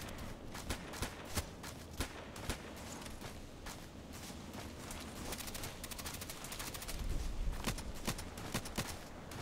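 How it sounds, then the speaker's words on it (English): Video game gunfire in ADXsniper: sharp single shots crack out at irregular intervals over a low background rumble, moderately distant and fairly faint. "Who's shooting there and why?"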